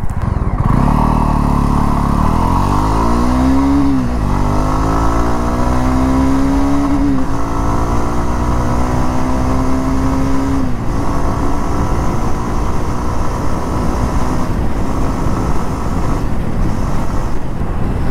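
Jawa 42 motorcycle accelerating hard from a stop through the gears, the engine note climbing and dropping at each shift, loud and close, then settling into a steady roar with wind noise.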